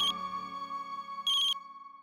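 A phone ringtone rings in a domestic scene from a Hindi TV drama, a steady electronic tone with bright bursts repeating at the start and again near the end, fairly clear and with no talking over it.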